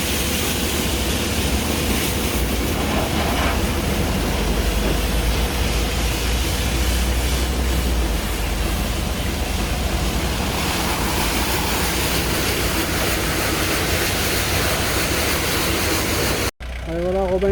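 Water sprays steadily over a van and its engine during a rinse, a continuous loud hiss of spray that lasts almost to the end and then cuts off abruptly.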